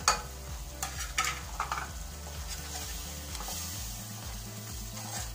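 Masala of tomato puree with salt, red chilli, turmeric, garam masala, dried coriander and dried fenugreek roasting in ghee, with a steady close sizzle and clattering scrapes of a spoon stirring through the pan.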